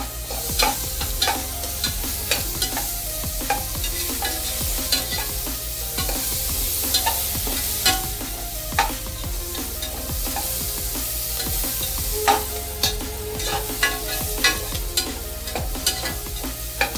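Onions sizzle and fry in a pan with green chillies while a utensil stirs them in steady scraping strokes, close and continuous, for a Tamil broad bean (avarakkai) rice dish; no one speaks.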